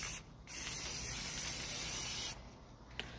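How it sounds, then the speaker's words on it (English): Spray paint hisses from an aerosol can onto a resin clutch purse in a steady two-second burst, preceded by a brief short spurt and followed by quiet handling clicks. "we're going to go ahead and spray our first coat of spray paint on here"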